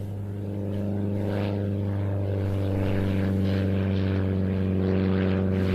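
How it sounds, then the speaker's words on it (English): An RV-7 propeller aircraft takes off during air show arrivals, its engine and propeller making a steady, droning buzz that swells gradually and stays loud and close throughout. "Just seeing the Ultimate Warbird Flight RV-7 taking off."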